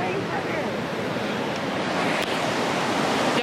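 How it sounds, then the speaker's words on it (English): Big ocean waves crashing at a beach, a loud, continuous broadband roar of surf with wind buffeting the microphone, swelling slightly toward the end. "Y'all, look at the big waves."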